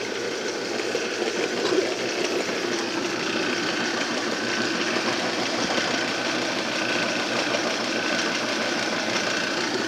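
A can crusher machine on sturdy motor mounts runs steadily, its motor giving a constant close mechanical whir and hum with a fine rattling texture and no pauses, and no voices over it.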